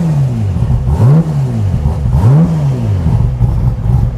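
A Ford GT40 race engine revs close up, loud and rasping, its pitch swinging up and down in repeated sweeping blips without any voices over it.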